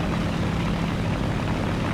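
A light Ki-43-II propeller fighter in War Thunder drones just after takeoff, a loud, steady engine roar with dense broadband buzz and no gaps or voices.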